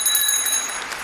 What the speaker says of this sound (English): I had to ring that bell very, very loudly and for a longer time